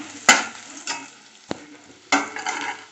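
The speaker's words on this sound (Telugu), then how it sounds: "ఇప్పుడు స్లైస్ చేసుకున్న ఆనియన్స్ని ఇందులో వేయాలి. ఇలా ఆనియన్స్ని బ్రౌన్ అయ్యేదాకా వేయించుకోవాలి." Sliced onions stirred in hot oil in a pan for chicken dum biryani, with a few sharp scraping clatters over a low, steady sizzle, all close by.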